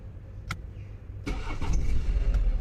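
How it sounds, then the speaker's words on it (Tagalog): A car engine cranks briefly after a click, then catches and settles into a steady idle, close and fairly loud with no talk over it. "Pinindot lahat para lang umandar."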